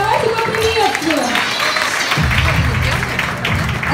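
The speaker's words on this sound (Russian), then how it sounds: "Громче аплодисменты." Crowd clapping at a children's poetry recital evening, a sustained wash of applause that swells louder partway through, with speech mixed in early on.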